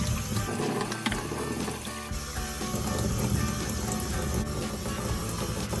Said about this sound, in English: Rinsing out the dust box with warm to hot water.